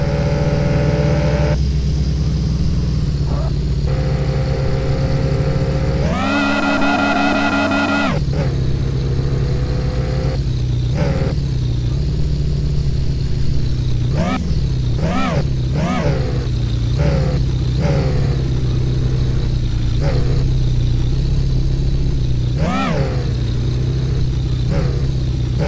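A car engine in a car-dealership video game drives steadily with a loud, continuous drone, broken by a burst of hard revving early on and several short throttle blips later.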